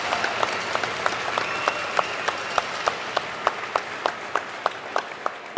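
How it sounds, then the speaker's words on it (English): Outdoors at a charity football game for survivors, a crowd applauds the volunteers with a steady wash of clapping, while one pair of hands beats out a loud, regular clap near the front. "let's give a big round of applause to all of our volunteers"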